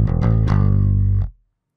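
Distorted electric guitar plays a few quick picked notes and a slide down to A, then settles into a sustained G that rings before stopping; loud, close and alone.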